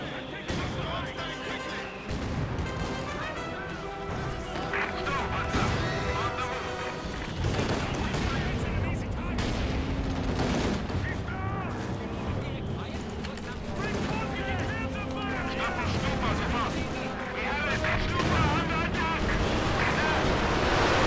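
Mortar blasts and gunfire in the World War II strategy game Company of Heroes 2, with continuous rattling shots and booming impacts, under frequent shouted voice lines from soldiers.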